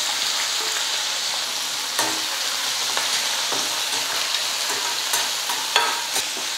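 Chopped onions and herbs sizzle steadily in a hot pan for corn flour dosa batter, with occasional sharp clicks and scrapes of stirring.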